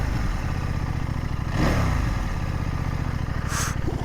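CFMOTO 800NK motorcycle engine idling with revs slowly settling down, a steady close mechanical drone with a brief swell partway through and no talk.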